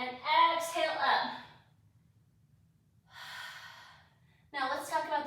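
Breathy exhales during a Pilates mat class plank preparation, close and fairly quiet, separated by pauses, with some voiced breaths that border on speech.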